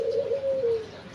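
A spotted dove, or burung puter, coos once in a soft, low, drawn-out call that slides slightly downward, heard close against quiet background noise.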